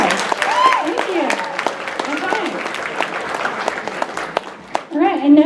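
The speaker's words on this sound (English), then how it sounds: "round of applause" An audience at a furry convention cosplay contest gives sustained applause, a dense wash of clapping with cheers and voices layered over it.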